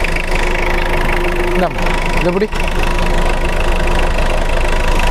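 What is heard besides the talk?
SUV engine revving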